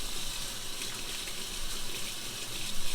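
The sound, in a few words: running hot water while cleaning filter O-rings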